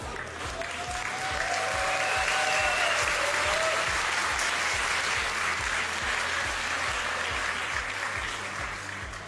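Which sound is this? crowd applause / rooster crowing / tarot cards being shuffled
crowd applause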